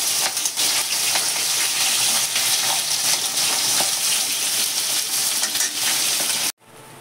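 Boiled taro sizzles and spits loudly and steadily in hot oil left from frying hilsa fish, a dense continuous crackle that cuts off abruptly near the end.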